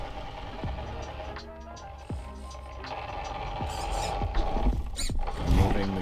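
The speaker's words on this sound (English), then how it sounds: "Servo is almost louder than the motor, the transmission." Large Reefs servo whirring inside an RC car, short mechanical whines and ratchety buzzes repeating in bursts over a steady low drivetrain hum, fairly close, with no talking.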